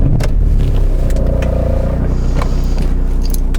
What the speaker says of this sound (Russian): Двигателя не слышно за счет классной шумоизоляции, но сейчас уже слышу, что дизель